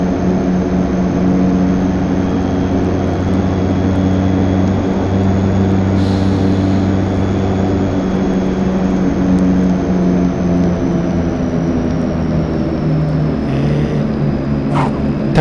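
A simulated aircraft drones steadily on a night landing approach to SABA in Microsoft Flight Simulator X, with loud, continuous engine and propeller noise and no talk.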